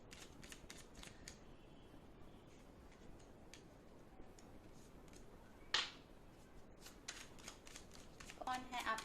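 Tarot cards shuffled by hand during a soulmate pick-a-card reading, heard as quiet soft riffling and ticking flicks, with one sharper snap midway and a slightly louder burst at the end.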